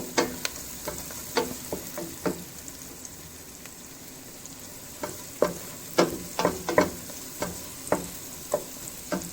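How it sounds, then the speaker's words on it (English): Eight garlic cloves sizzle in olive oil and butter in a pan, a steady soft frying hiss that is broken by frequent sharp clicks and clacks of stirring, heard alone without speech. "To this, I'm going to add 8 cloves of garlic. Let those cook for a second."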